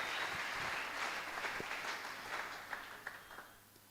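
A church congregation applauds and acclaims during a French and Swahili sermon, a steady wash of distant clapping and cheering filling the hall throughout, with a few sharper claps standing out near the end.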